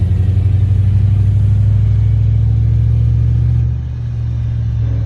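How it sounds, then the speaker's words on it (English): An LS-swapped nitrous car in 5th gear is floored at full throttle, its engine giving a loud, steady low rumble that builds continuously and then eases slightly near the end. "I'm in 5th gear and I'm just gonna floor it."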